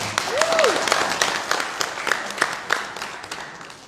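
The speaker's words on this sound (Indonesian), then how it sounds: "Berikan tepuk tangan yang meriah" An audience claps to welcome the mayor and deputy mayor of Bengkulu onto a relaxed talk-show stage. Steady applause of moderate loudness fills the room for several seconds, with a brief vocal sound near the start.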